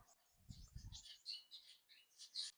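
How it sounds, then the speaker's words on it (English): Faint starling song with varied high chirps, whistles and clicks from several birds, soft and somewhat distant, with a low rumble early on. "We've got starlings."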